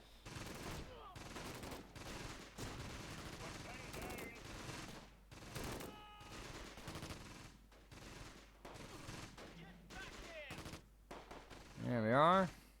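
Rapid gunfire from Panzer Grenadier infantry in the Close Combat wartime strategy game, dense bursts of shots running through the whole stretch with music-like tones and a brief rising synth sweep near the end.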